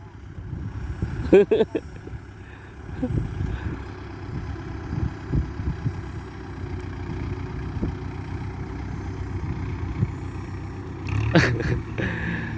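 A Kubota MU4902 farm tractor runs with a steady low diesel rumble that stays fairly constant throughout, with a few brief clanks and knocks on top.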